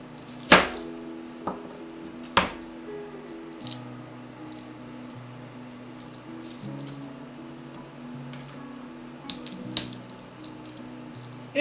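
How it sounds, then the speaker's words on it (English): A knife chops through a large garlic clove on a cutting board indoors, giving a few sharp, close taps spread across a quiet stretch with a steady low hum behind. "You guys know how good I am at chopping garlic."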